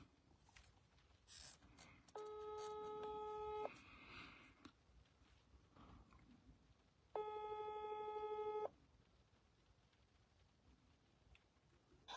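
A WhatsApp call rings out from a phone. Two separate bursts of a steady electronic ringing tone play near and clear, with quiet room noise between them.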